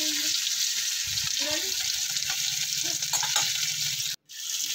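Prawns fry in oil in a pan, a constant bright sizzle with occasional stirring clatter and faint watery sounds, continuing steadily until a brief cut near the end.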